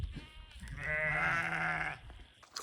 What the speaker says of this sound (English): he's out in the big paddock now with all the sheep and Yuzuri and the Burger boys.